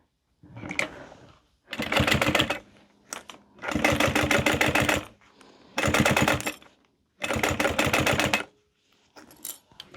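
A sewing machine stitches around three sides of a small fabric lip gloss holder, running in five or six steady bursts of rapid, rattling stitches separated by short pauses.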